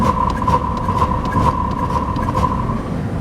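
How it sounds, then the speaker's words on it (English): A Cadillac DeVille engine being blipped and released while its coolant system is bled, with the heat wide open, giving a steady close engine drone with a sustained tone and faint rhythmic pulses, loud and without talking. "You fire it up, turn your heat wide open, and then you just like throttle and let off the gas like this."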